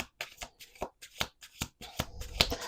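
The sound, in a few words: shuffling a deck of cards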